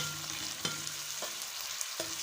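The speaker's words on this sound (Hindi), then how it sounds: "सारी प्याज मैंने इसमें डाल देनी है। ऑयल को आपने ज़रा गर्म करना है, इससे हमारी प्याज जल्दी ब्राउन हो जाती है।" Sliced onions frying in heated oil for a chicken masala curry, a soft continuous sizzle and hiss close by with occasional faint scraping stirs, quiet and without speech.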